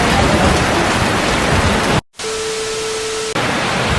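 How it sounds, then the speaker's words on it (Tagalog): Dense, steady heavy rain roars loudly and evenly around a barn in Khao Yai, Thailand, broken by a brief silent gap before the hiss resumes with a faint steady tone underneath. "sobrang lakas ng ulan"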